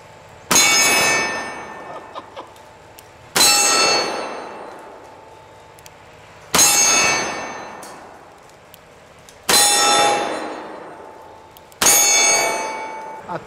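Five .500 Magnum revolver shots strike steel targets, each a loud ringing clang that decays slowly over a couple of seconds, spaced roughly three seconds apart.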